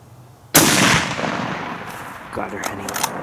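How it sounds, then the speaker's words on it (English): A single loud rifle shot fired while deer hunting, close and sharp, followed by a long rolling echo that fades over a few seconds outdoors. "You want me to shoot her? Shoot."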